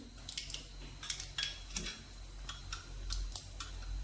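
Faint, irregular pops and crackles, like mustard seeds spitting in hot oil, scattered over a quiet background.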